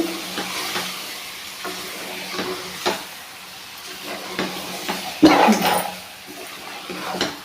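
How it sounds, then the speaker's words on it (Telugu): Marinated chicken sizzles and crackles steadily in a hot pan while a spoon stirs and scrapes through it in repeated clacks. A louder burst of frying rises midway, and there is no speech. "ఈ మ్యాగ్నేట్ పెట్టుకున్న చికెన్ మొత్తం వేస్తున్నానండి. ఇప్పుడు బాగా మిక్స్ చేయాలి."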